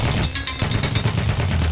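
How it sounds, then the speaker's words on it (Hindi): 23 mm anti-aircraft guns fire in dense rapid bursts over an Iraqi bridge, a loud continuous rattling barrage with no talk. "23 mm विमान भेदी तोपें गरज उठती हैं, हवा को ट्रेसर्स की भारी कतारों से चीरती हुई।"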